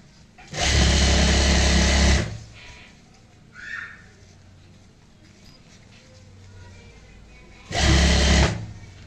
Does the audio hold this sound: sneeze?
no